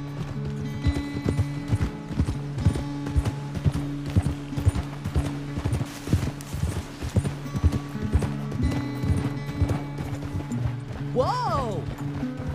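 Rhythmic horse hoof clip-clop at a steady trotting pace under music and voices, with a brief rising whinny near the end, in Red Dead Redemption 2.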